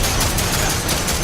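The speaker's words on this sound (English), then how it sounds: "This thing is very dangerous. Fires 3 shots before it reloads." Weapon in Planetside 2 firing in rapid three-shot bursts, dense and loud throughout a brief stretch of continuous gunfire.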